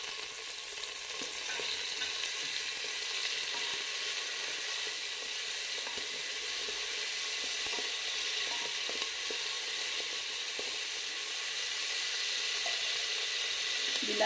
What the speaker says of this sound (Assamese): তাৰপাছত মই এই 2টা কাটি থোৱা বিলাহী দি দিছোঁ।